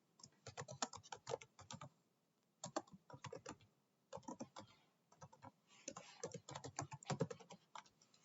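Fingers typing on a computer keyboard in bursts of rapid clicking keystrokes, separated by short pauses, close and clear with no voice over it.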